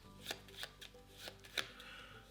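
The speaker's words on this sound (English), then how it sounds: "We got to shuffle our discard." Board game cards from a discard pile are shuffled by hand nearby, giving several quick riffling bursts in an uneven rhythm at low volume.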